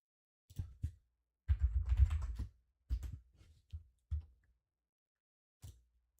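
Someone types on a computer keyboard, nearby and quiet, in irregular bursts of clicks: a few lone taps, a quick flurry, then scattered keystrokes separated by pauses.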